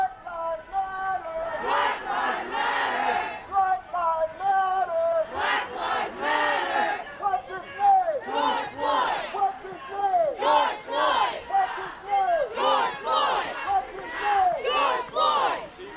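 A large George Floyd protest march in Red Bank chants in loud rhythmic bursts, many voices rising and falling together in repeated phrases over several seconds.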